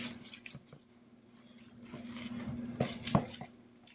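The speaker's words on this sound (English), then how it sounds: "Give this a stir." Soft scraping and clinking of a spoon stirring biscuit dough in a bowl, a few faint irregular taps and scrapes, quiet and close with no talking.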